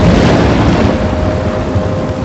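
Thunderstorm in the game Life is Strange, a loud, steady roar of wind and rain with deep rumbling underneath, continuous and alone with no voices.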